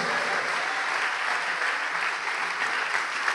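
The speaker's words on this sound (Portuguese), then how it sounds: "Vamos aplaudir ao nome de Jesus." A church congregation applauds in a steady, dense wash of clapping that holds evenly from start to finish, with no voices rising above it.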